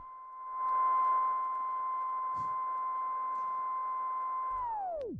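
A steady, pure high tone from a DVS timecode vinyl record hums continuously over faint hiss, then bends sharply downward and cuts off as the record is stopped.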